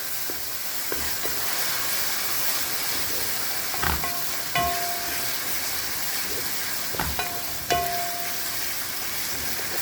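Ginger and green chili paste frying in oil with onions for chicken, a steady close hiss of sizzling with occasional metallic stirs and clinks against the pan, no speech.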